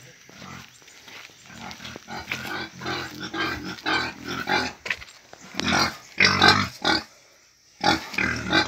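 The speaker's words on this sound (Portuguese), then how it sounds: "Tá bonito os porcos" Pigs grunting in a pigsty on a small rural farm, with irregular grunts and snorts close by, rising and falling over several seconds while people talk nearby.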